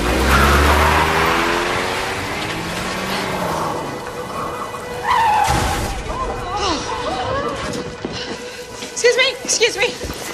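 A car pulls away from a parking lot, its engine revving loudly at first and then fading into the background while people talk urgently over it.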